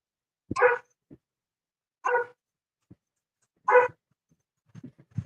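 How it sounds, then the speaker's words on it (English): A dog barks three separate times at intervals of about one and a half seconds, each a short, clear woof, with faint scattered sounds afterward. "I hear a dog barking."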